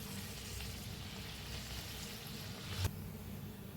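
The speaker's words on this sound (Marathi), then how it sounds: "दोन्ही साईडने छान तळून घ्यायचं." Carrot puris deep-fry in hot oil with a dense, steady bubbling sizzle, close and even throughout, broken by one brief sharp click near the end; no one speaks.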